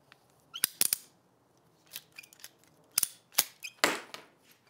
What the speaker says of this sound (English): And we'll just cut the hose off there.